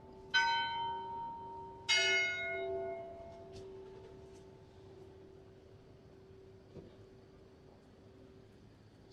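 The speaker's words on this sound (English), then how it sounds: "Oh, there's St Helens bells." St Helen's church bells in York ring out twice in clear, resonant strikes that decay slowly into a quiet evening street, heard from a moderate distance with faint background hum and no talking.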